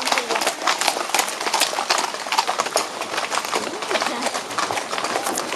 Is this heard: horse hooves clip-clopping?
yes